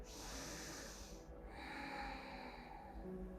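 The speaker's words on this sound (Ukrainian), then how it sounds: "І тепер глибокий вдих" A deep inhale during a bedtime yoga twist, a soft, close breath drawn through the nose with a slight snort-like hiss, quiet and alone without talk.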